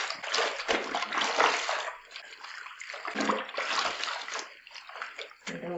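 White towels are washed by hand in water, with close, uneven sloshing and splashing in bursts separated by brief pauses.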